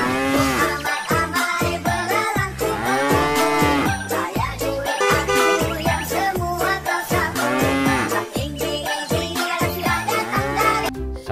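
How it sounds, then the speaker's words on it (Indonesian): Colorful cows in a farm pen mooing loudly and repeatedly in long drawn-out calls, several overlapping, with occasional jingling like a bell between them. "Ini sapi warna-warni."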